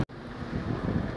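Wind blows across the spring waterfront in Liepāja, a steady, loud low rumble of gusts buffeting the microphone after a brief cut at the start.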